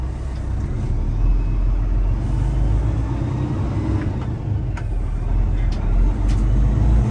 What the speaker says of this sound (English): Test driving this truck.